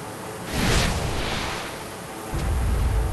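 Naval gunfire in the Warships Mobile game, featuring ships such as USS Missouri, USS Zumwalt, HMS Queen Elizabeth and RFS Moskva: a deep rumbling boom swells and fades, followed by a second heavy low blast near the end.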